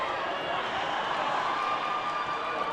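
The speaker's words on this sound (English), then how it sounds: "Crowd still roaring" Steady, dense crowd roar at a VA Showcase track relay race, continuous and fairly distant, holding at an even level for the whole stretch without breaks.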